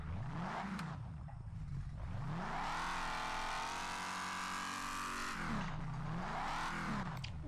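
A car engine in the Overpass racing game revs up and down in repeated sweeping surges, holding a high sustained whine in the middle, loud and alone with no talk.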